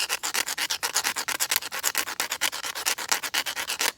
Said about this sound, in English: I'm rubbing it back and forth and turning at the same time.